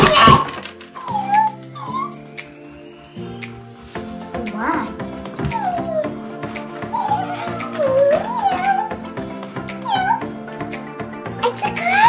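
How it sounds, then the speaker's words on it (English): A Scruff-A-Luv toy cat gives repeated electronic meows over a busy background of children talking and music, with giggles mixed in. "It's a cat."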